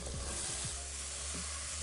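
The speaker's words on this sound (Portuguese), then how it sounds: "Maçã refogando aqui com a manteiga e o açúcar." Apples sauté in butter and sugar in a pan, a steady close sizzle broken by a few soft stirring scrapes, with no talking.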